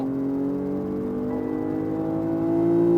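A BMW M240i on the Dubai Autodrome track accelerates gently, its engine a steady droning tone that rises slowly in pitch and grows louder by the end.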